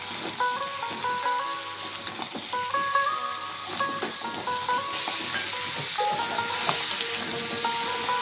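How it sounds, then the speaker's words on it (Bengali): Crab pieces sauté with potatoes in a pan, a continuous sizzle and hiss that runs the whole way through, with occasional stirring scrapes and clinks over a faint background tone and no speech. "কাঁকড়াটাকে দিয়েও আলুর সাথে কষিয়ে নেব ভালোভাবে।"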